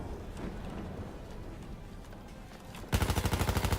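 Rapid automatic gunfire in Battlefield bursts in near the end as a loud, evenly spaced volley after a quieter stretch of distant battle ambience.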